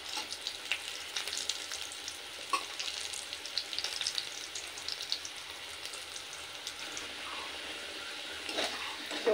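Potato pieces frying in hot oil in a pan, a continuous close crackling sizzle with scattered pops, steady throughout with no voices.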